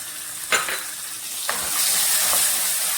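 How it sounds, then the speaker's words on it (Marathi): Ground peanut masala paste, with curry leaves in the pan, sizzles and fries steadily for a curry. A few sharp scrapes of stirring cut in near the start, with no voices. "आणि हे चांगलंच परतून घ्यायचं आहे आपल्याला."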